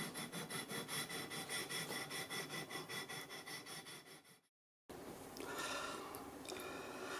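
A sanding beam rubs across the frets of a Squier Classic Vibe guitar neck in quick, regular back-and-forth strokes, then breaks off briefly before softer, irregular scraping resumes close by.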